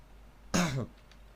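A man clears his throat once in a short, close, fairly loud burst lasting about a third of a second, with near silence around it.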